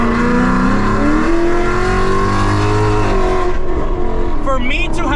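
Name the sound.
loud Ford Mustang GT V8 engine revving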